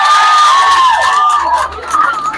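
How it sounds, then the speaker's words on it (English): Students in a school gathering cheer and shout loudly as a crowd, sustained high voices filling the space, with clapping blended into the noise. "Can you clap for Barrister Mr. Koyebu?"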